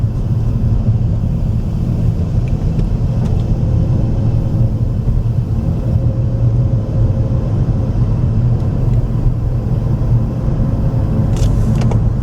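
Steady road noise from inside a moving car following highway traffic, a loud constant low rumble with faint tire and wind hiss and no voices.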